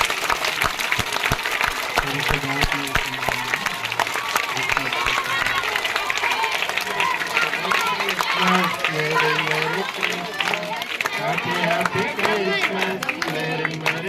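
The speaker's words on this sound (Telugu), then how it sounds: "ఫాస్ట్ గారు ఒకసారి క్లాప్స్ కొడతారు అందరూ క్లాప్స్ కొట్టుకుంటారు" Everyone claps together at a school Christmas celebration during a cake cutting, a dense, sustained burst of applause with crowd chatter and voices talking over it, filling the whole stretch.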